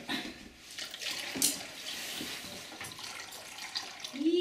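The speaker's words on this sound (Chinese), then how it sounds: "再把水倒掉也可以啊" Water is poured out of a basin, a close splashing and trickling that stays moderate and continuous for a few seconds, ending with a brief louder gush.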